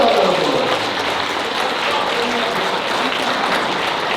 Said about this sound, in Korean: 믿으시면 박수 보내주세요.